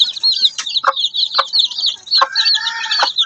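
Two-week-old chicks peep in rapid, high-pitched chirps that run continuously, with a few brief louder clucks or rustles standing out close by.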